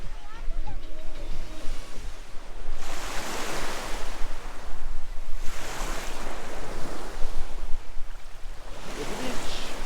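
Ocean waves wash in at a crowded beach on Pelee Island, Ontario, in broad rolling surges of surf about every three seconds, mixed with wind rumble on the microphone and faint background voices.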